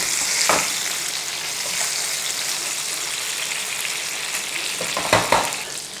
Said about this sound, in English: Okay, we're going to flip it for the last time. I'm going to let that seasoning cook on that side.